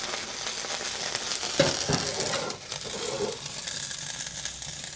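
Salmon sizzles steadily in a hot pan while being flambéed, a close continuous frying hiss with a brief louder flare partway through.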